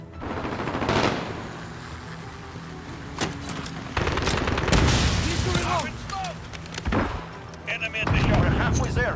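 Rapid bursts of automatic gunfire from the Modern Warfare video game ring out close and loud in repeated volleys, with sharp single shots and booms mixed in, while players talk over the action.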